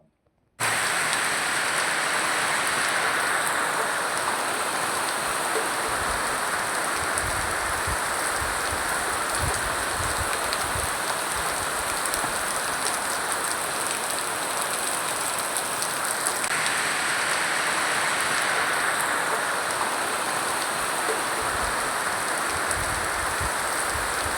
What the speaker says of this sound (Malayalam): മഴ നല്ല ശക്തിക്ക് ഇരച്ചു വരുന്നുണ്ട് ദേ പെയ്തു കേട്ടോ